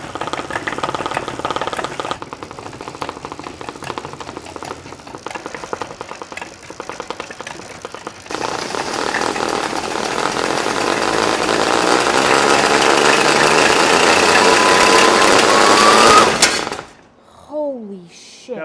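A custom Power Wheels tank with tracks runs its motor at quarter throttle in low power mode, giving a loud, rattling, buzzy drone that rises in intensity and then cuts off abruptly, followed by a short exclamation.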